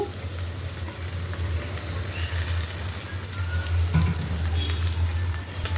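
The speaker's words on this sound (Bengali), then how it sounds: "পেঁয়াজ দিয়ে দিলাম, পেঁয়াজ কুচি তেলের ভিতরে" Chopped onion frying in oil in a home kitchen pan while prawns and bottle gourd are cooked, giving a steady, close crackling sizzle that runs throughout with a brief louder hiss midway.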